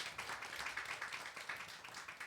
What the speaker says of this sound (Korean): 올리킨과 인도자에게 위로의 박수 하겠습니다